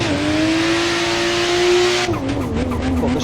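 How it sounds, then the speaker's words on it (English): A drift car in the Assetto Corsa racing game, fitted with a 2JZ engine sound, holds a loud steady engine note while its tires squeal, then the note wavers and dips. "I've modified the sound file in this car so it's got the sound of the 2JZ"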